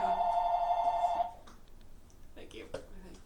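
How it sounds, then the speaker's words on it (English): A telephone rings with one sustained electronic tone lasting just over a second, then cuts off, leaving quieter clicks and a brief voice. "The phone's ringing."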